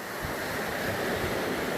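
Surf washing onto a white-sand beach, a steady broadband wash of breaking waves with some wind noise on the microphone, continuous and fairly close with no voices.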